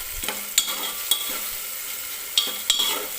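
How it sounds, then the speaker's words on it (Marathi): Dry coconut powder roasts in hot oil in a pan while being stirred, giving a soft steady sizzle with a few sharp scraping clicks of the spoon, close and fairly quiet, with no talking. "हे सुद्धा आपल्याला तेलामध्ये भाजून घ्यायचं आहे."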